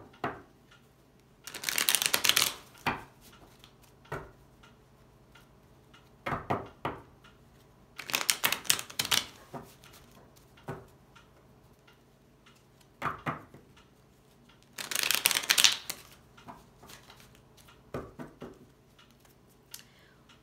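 A deck of tarot cards being shuffled in three loud riffling bursts, with softer taps and flicks of cards being drawn and laid down in between, close and quiet otherwise, no talking.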